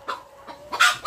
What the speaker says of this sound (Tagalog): May nangitlog palang manok.